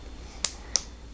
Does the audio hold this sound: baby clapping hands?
yes